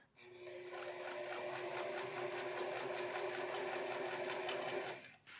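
A sewing machine stitching along the edge of a flat piece on a seam of men's pants, a close, steady mechanical whir running continuously for about five seconds before stopping abruptly.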